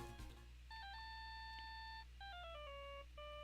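A cell phone ringtone in the Phoenix Wright: Justice For All video game plays a bright electronic melody of short beeping notes, repeated in two phrases over a low steady hum.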